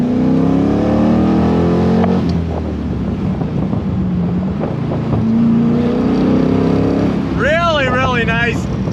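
A loud Chevrolet C2 Corvette restomod engine drones and roars steadily under wind buffeting while driving, with a brief rising whine of revving near the end.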